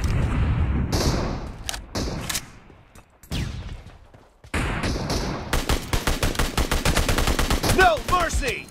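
Rapid gunfire from an SKS rifle in the mobile battle game PUBG Mobile, loud bursts of shots with brief gaps, then a fast steady string of repeated cracks toward the end.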